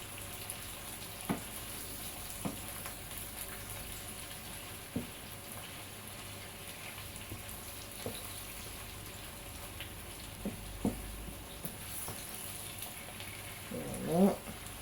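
Congolese salt cod, makayabu, cooks with pieces of pepper in a pan, a faint, soft frying crackle with scattered light pops and taps, low and even throughout.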